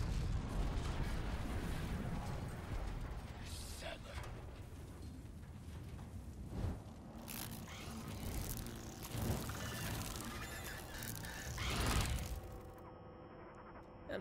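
A rumbling explosion in the video game Resident Evil 4 Remake, with booming debris and crackling aftershocks, loud at first and then rolling on with several further thuds.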